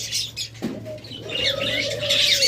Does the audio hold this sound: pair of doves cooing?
yes